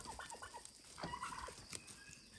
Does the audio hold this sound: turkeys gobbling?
yes